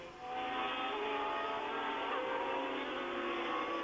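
Scheckter's Ferrari Formula 1 car pulls out of the pits at the 1979 French Grand Prix at Dijon-Prenois, its high-pitched engine wailing steadily and loudly with a continuous whine and shifting tonal harmonics.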